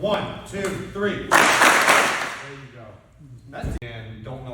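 A high school assembly crowd bursts into a loud, sharp clap that decays over about a second, with another brief crack later, surrounded by someone talking.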